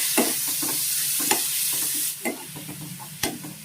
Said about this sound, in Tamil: இப்போ தக்காளி போட்டுக்கோங்க.